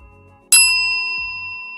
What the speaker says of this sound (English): click the notification bell to be notified